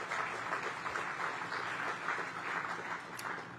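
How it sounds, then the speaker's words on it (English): Sustained applause from a gathered audience at an outdoor groundbreaking ceremony for a new community space, a steady dense clatter of many hands holding even for several seconds. "Let's give them another round of applause."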